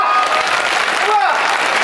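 Audience applause at a Hindi kavi sammelan poetry gathering in Garoth, a steady dense wash of clapping filling the whole moment, with a faint voice rising briefly over it.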